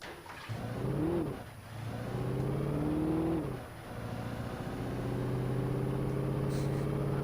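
A car engine hums and revs in the video game Alan Wake, rising and falling in pitch through a few gear changes before settling into a steady drone, quiet and alone.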